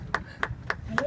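Four sharp, evenly spaced claps ring out at a graduation honor event for Granger High, quiet and brief like a small audience starting to applaud, over a low hum of room noise.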